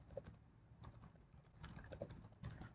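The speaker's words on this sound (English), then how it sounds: "So I'm just gonna type my email." Someone types an email on a computer keyboard: quiet, close key clicks in irregular bursts with brief pauses, and no talking.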